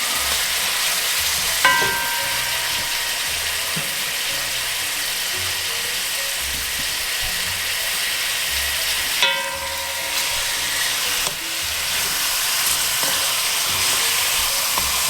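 Lamb neck pieces brown in a frying pan with a steady, close crackling sizzle. Metal clinks and scrapes sound a few times as the meat is moved around.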